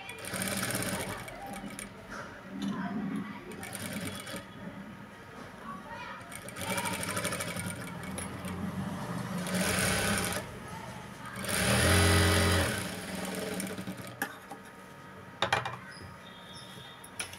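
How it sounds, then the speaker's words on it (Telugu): A sewing machine runs in bursts while double-stitching the sleeves of a lined blouse, with short loud whirring runs separated by pauses and someone talking between and over them. "హ్యాండ్స్కి ఎప్పుడు కూడాను డబల్ స్టిచ్ అనేది వేసుకోవాలి"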